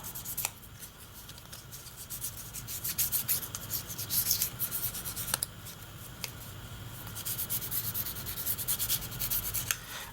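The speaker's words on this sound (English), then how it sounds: "we've got our FlexiFile here with the black side to remove scratches" Steady close-up rubbing and sanding from a FlexiFile sanding stick, its black side smoothing scratches on a plastic model kit part, a continuous gritty scrape with occasional sharper ticks.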